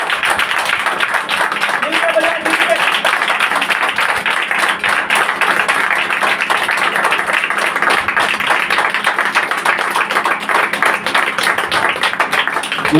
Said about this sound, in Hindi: जोर से प्रभु की दासी के लिए ताली, जोर से, जोर से।